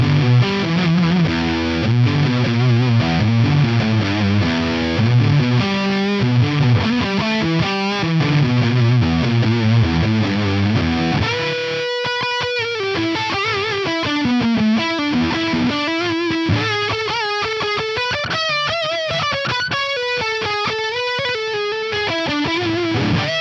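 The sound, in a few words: fuzz face pedal model distortion on guitar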